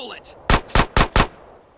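Four quick, loud gunshots ring out in even succession in GTA San Andreas, close and punchy, after a brief faint squeal of other game noise.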